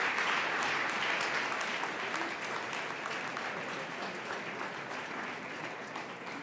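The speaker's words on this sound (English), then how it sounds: "give you a round of applause for these incredible companies" A large audience at a startup accelerator demo day breaks into sustained applause, dense clapping that holds steady and slowly tapers over several seconds.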